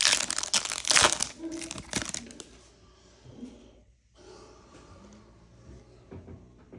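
Soccer trading card pack wrapper crinkled and crushed by hand, loud close crackling bursts at first that fade into softer rustling and handling noises, with faint breathing and no clear talk.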